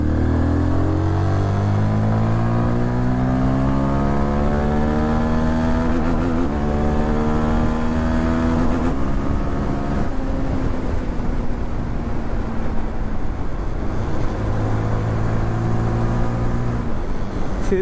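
A Zontes GK350 motorcycle cruises on a road in light drizzle, its engine droning steadily and loud with slow pitch rises and falls as it accelerates and settles, close to the microphone with wind noise throughout.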